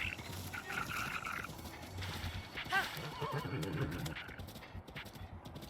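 A horse in the open-world video game Zelda: Breath of the Wild gives a loud whinny amid rhythmic galloping hoofbeats, with game music and effects layered throughout.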